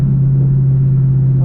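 A McLaren car engine gives a loud, steady close-up rumble with a deep droning tone, held evenly without clear peaks.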